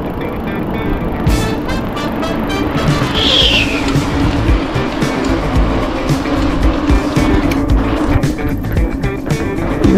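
A vehicle shifts gear while driving, its engine and road noise running steadily close by, with a brief rising whine partway through.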